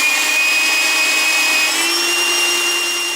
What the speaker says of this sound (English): And this belt sander will do a very, very quick job